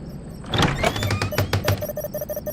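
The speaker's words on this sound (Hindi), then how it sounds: "जैसे ही दिया ने दरवाजा खोला" A door in a house with a courtyard storeroom is opened with a sliding clatter and several knocking thuds, followed by faint repeated tapping.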